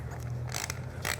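An 8mm socket ratchet works a screw loose on a Triumph Bonneville, quiet close clicking with two brief bursts of ratcheting over a low steady hum.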